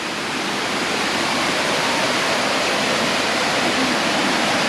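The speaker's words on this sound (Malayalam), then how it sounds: "2ആം വെള്ളച്ചാട്ടം ഇവിടെയാണ്." The second waterfall at Thusharagiri in Wayanad, Kerala, roaring steadily and loudly up close, a broad unbroken rush of falling water with no voices over it.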